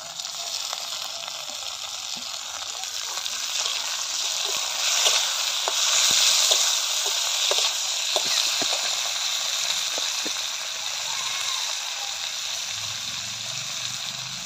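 Chopped tomato frying in hot oil with spices already browned red, a steady close sizzle and hiss running throughout, rising slightly in the middle with scattered small pops.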